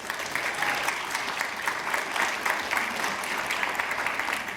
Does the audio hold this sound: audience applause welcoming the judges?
yes